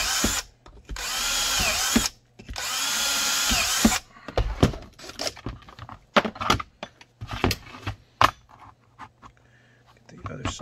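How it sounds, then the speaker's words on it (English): Power drill boring through holster parts for a Ruger LC9 and Taurus G2c: a loud sustained whine for about two seconds, a second long burst, then scattered clatter and handling knocks. "drilling"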